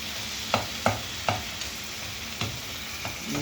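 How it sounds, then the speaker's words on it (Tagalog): Onions and garlic sauté in a pan with a steady broadband sizzle, punctuated by several sharp spatula scrapes and stirs early on and a couple more later, fairly quiet and with no talking. "Igisa na natin guys."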